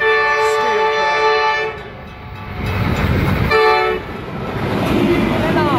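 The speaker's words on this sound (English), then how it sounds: "This is the Wyalla steel train going from Newcastle to Wyalla." An NR63 locomotive hauling the Wyalla steel freight train passes at Douglas Park, with sustained loud rumble, wagon noise and clattering, rising and falling as the consist rolls by.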